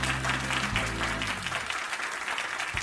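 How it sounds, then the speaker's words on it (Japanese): Crowd applause in a party scene from the video game Like A Dragon Gaiden, a steady wash of clapping over a low hum that thins out after the first second. "よろしければ拍手をいただけますでしょうか。"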